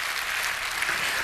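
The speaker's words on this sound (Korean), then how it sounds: "이거 박수 한번 보내야 돼요." A church congregation breaks into a short burst of applause, a dense, continuous patter of many hands clapping at once.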